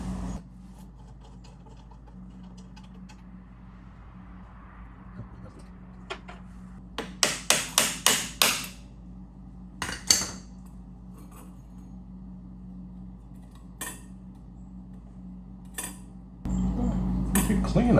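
The carburetor float bowl comes off a 1914 Model T Speedster with a quick run of close metallic clinks and taps, then a few scattered clicks over a faint hum.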